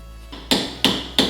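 A hammer strikes a Polaris RZR front hub three times in steady succession, sharp close metallic knocks about a third of a second apart, preceded by a softer tap.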